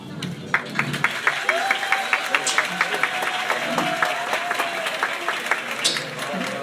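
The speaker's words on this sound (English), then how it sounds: "I like to trade in applause, can I? Come on, 1, 2, 3." An audience at an event with a Nobel laureate claps in a steady, even rhythm for several seconds, a moderately loud patter with a voice heard faintly over it.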